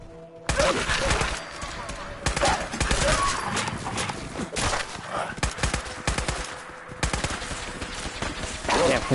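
Gunfire in Fallout 4 around a Brotherhood of Steel soldier in power armor comes as repeated rapid bursts and single shots, loud and close, with brief lulls between volleys.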